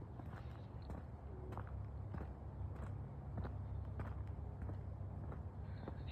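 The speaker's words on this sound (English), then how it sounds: "my footsteps on the dirt. A little bit of crunching going on." Footsteps crunching on a dirt path during an outdoor New Year walk, a steady run of soft crunchy steps close by over low ambient rumble, with no talking.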